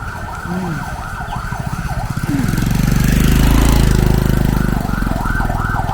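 An ambulance siren in Kerala wails in rising and falling sweeps, growing louder as the vehicle approaches, with engine and road rumble underneath.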